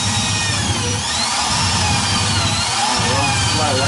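A 30mm drill bores into the wood of an acoustic guitar with a continuous grinding whir, loud and close, with a voice faintly audible beneath.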